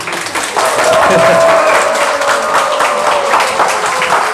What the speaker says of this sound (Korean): 박수, 함성.